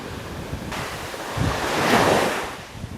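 Ocean surf surges and washes up a beach on Yakushima, a continuous loud roar that swells toward the middle and stays up with wind noise on the microphone.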